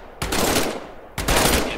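Two loud, close bursts of pistol gunfire from the VR game Medal of Honor Above and Beyond, each a sharp report with a ringing tail, the second following about a second after the first.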